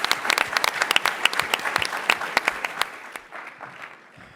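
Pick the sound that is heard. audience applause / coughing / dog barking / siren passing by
audience applause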